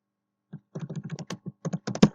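Close-up computer keyboard typing while writing Java code, a quick irregular burst of crisp key clicks with short pauses, no voices.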